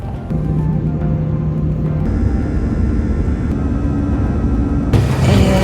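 Loud, steady roar of an airplane in flight to Komatsu Airport heard from inside the cabin, a constant engine drone with shifting hum tones.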